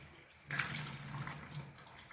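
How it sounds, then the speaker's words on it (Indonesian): Water runs from a tap as hands are rinsed, a faint splashing that starts suddenly after a half-second of quiet and continues softly with small irregular splashes. "lalu siram tangan pakai air mengalir."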